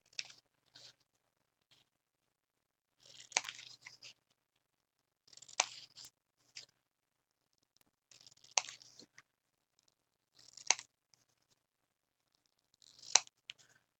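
Small scissors snip paper during a mini card craft session, a series of faint, crisp, separate cuts spaced a second or two apart with quiet gaps between, close by and without talk.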